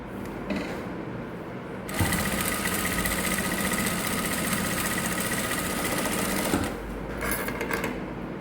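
An electric sewing machine runs steadily for several seconds, stitching a folded fabric strip into a thin cord for trouser waistbands; a loud continuous whirring hum starts and stops, with quieter handling sounds before and after.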